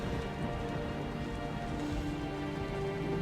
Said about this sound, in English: Hold on, there's rain.